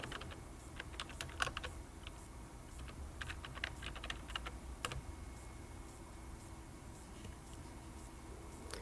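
Quiet, irregular clicking of keys being typed on a computer keyboard, in short bursts with pauses, without talk.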